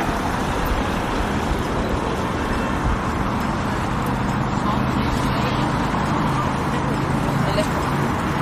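Steady road traffic rumbles at a roundabout, with cars starting and passing, bikes going by and a pedestrian crossing signal beating in the mix, a dense continuous wash of engine and tyre noise.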